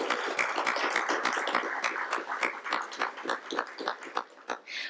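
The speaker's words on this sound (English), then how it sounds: "can we get another round of applause for the students?" Students get a round of applause at a youth civics council meeting: steady clapping from an audience lasts several seconds and thins out toward the end.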